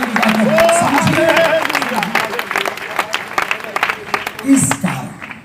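A congregation at an evening Christian convention meeting in Navapur claps together, a dense, continuous patter of hands running under loud voices and a sustained tone, swelling again near the end.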